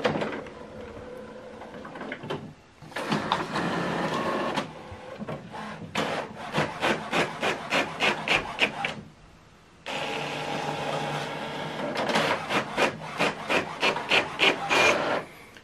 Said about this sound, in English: So this document we printed out, double-sided, long edge, via Wi-Fi Direct from the laptop.